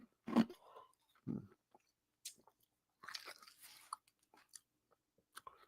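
Ice being chewed close to the mic: several loud, separate crunching bites, with quieter crackling chews in between and short silent gaps.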